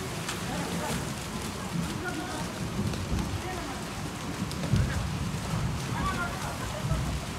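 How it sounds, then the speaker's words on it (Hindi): Heavy rain pours steadily over an outdoor football match, a dense continuous hiss with a few louder thumps near the middle, while people talk faintly underneath. "Barish phir se shuru ho gaya yaar."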